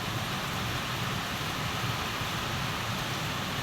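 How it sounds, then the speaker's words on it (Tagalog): Steady rain pouring down outdoors at a house under construction, a continuous dense hiss with no breaks or other distinct sounds, moderately loud and even throughout. "Tamang-tama po at bumabatak ang ulan."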